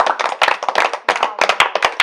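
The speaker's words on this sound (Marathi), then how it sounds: "सगळ्यांनी टाळ्या वाजवत आमच्यासाठी." Children in a classroom clap together in quick, uneven bursts of claps, loud and close, with brief pauses between flurries.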